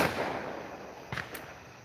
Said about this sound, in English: And the neighbor's fireworks.